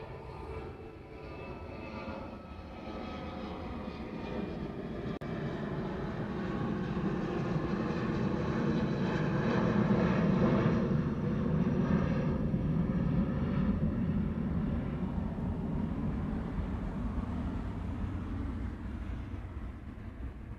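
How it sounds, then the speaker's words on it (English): A C-130J Super Hercules turboprop at Honolulu airport, a sustained rumbling engine drone with tonal propeller hum that swells to a peak midway and slowly eases, moderately distant. "Ian says C-130J Super Hercules"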